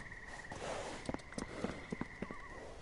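A pony's hooves clip-clop in a video game, a quick, even run of close hoof strikes over a few seconds with a faint tonal whinny-like note.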